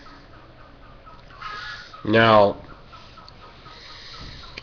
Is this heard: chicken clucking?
yes